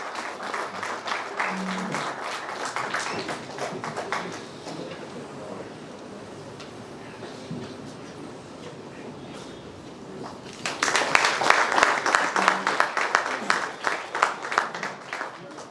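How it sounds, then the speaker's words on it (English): Audience applause at a business chapter launch event in Coimbatore, a steady roomful of clapping that thins in the middle, then swells louder again near the end. "Give him a grand applause, and I take the pleasure of inviting him to the dais."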